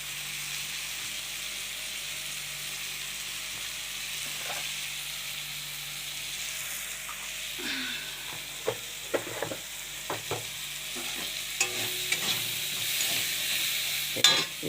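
Turmeric, chili, dried chili and cumin sizzle in hot oil in a pan, a quiet steady frying hiss broken by scattered clicks and scrapes of stirring that grow busier later on.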